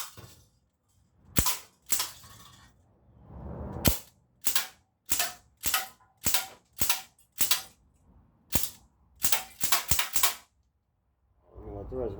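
Sig Sauer MCX gen 2 airgun fired from the hip, about a dozen sharp cracking shots in quick succession with short gaps, fairly loud and close, with a brief murmur of voices before and after.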